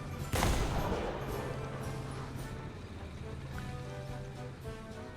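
A single heavy tank cannon shot in War Thunder, a loud boom near the start that decays into a long rumbling tail under steady engine drone.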